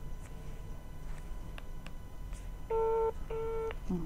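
Two ringback tones of a telephone call, each a short steady electronic burr, heard over faint background hiss with light clicks.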